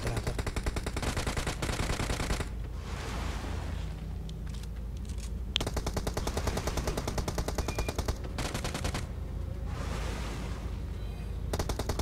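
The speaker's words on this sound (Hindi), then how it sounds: "उस चक्कर में फिर मैंने UMP से इसको मारना शुरू कर दिया" UMP submachine gun fire in the mobile battle royale game PUBG Mobile: rapid, loud automatic bursts close by, broken by brief pauses between strings of shots.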